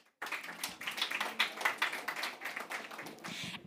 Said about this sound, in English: a big warm of applause to our panel